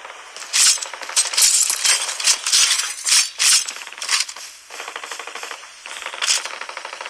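Machine gun fire in Call of Duty, sounding as rapid bright metallic bursts close by, with several loud volleys followed by a steadier, quieter stretch of firing.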